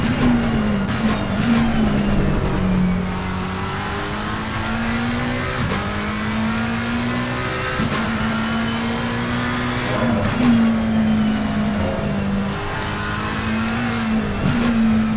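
Onboard engine of a McLaren race car lapping Zandvoort in Assetto Corsa Competizione, a loud steady drone rising through the gears with sharp shift drops every few seconds and faint tire noise, heard alone without talk.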